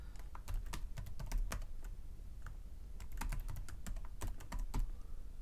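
Computer keyboard typing in irregular bursts of close, crisp keystrokes as a group name is entered, with short pauses between clusters.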